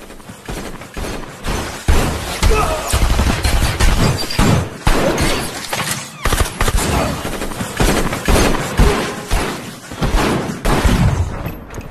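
Sustained gunfire from a film shootout in Baby Driver, with rapid overlapping shots, booming bursts and steady loud volley after volley across the whole scene and no talk.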